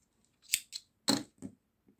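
Scissors snip crochet yarn on a poppy applique, a few quick close cuts and clicks in short succession, quiet and with no talk.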